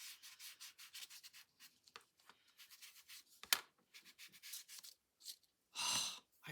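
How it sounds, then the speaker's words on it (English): Sanding, with short rhythmic rubbing strokes in quick bursts, some pauses between them, close and fairly quiet. "we might do a little sanding"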